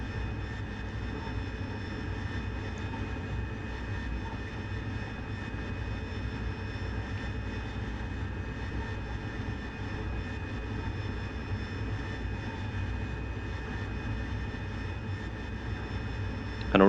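Steady, loud, continuous roar of an AV-8B Harrier jet engine as the aircraft descends toward a vertical landing, unbroken throughout with no talk.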